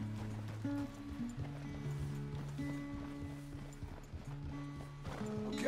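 Horse hooves in Red Dead Redemption 2 while riding: steady, quiet clip-clop of hooves in an even gait, continuing throughout under a low musical bed, with no speech.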